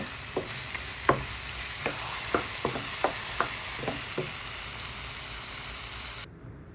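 An egg mixture is stirred in a hot pan while making poki poki, giving a series of scraping, clicking stir strokes over a steady frying sizzle and hiss, close up and without speech, before the sound cuts off.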